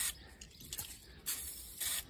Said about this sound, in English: Just giving it a good soak with WD-40.